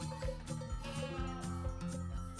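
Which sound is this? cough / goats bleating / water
goats bleating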